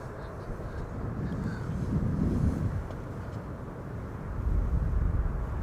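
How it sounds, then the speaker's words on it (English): A Vueling Airbus A320neo arriving at Amsterdam Schiphol from Valencia produces a steady, loud, broadband jet rumble that swells twice as it passes, with wind buffeting the microphone outdoors. "Vueling flight 8353, A320neo arriving from Valencia"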